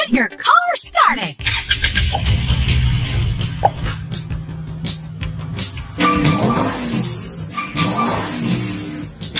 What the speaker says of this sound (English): Your car started.